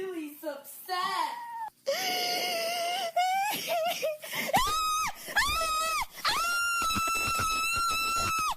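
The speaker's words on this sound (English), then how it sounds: "Sobbing followed by horrific screams." A woman sobbing and wailing, then breaking into long, high, strained screams that repeat and grow louder, raw and close, with voiced cries throughout.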